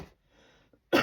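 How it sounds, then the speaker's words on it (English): A woman at a crafting table gives a single short, sharp cough at the end, close and loud, after a brief stretch of faint sound and quiet. "Excuse me for coughing."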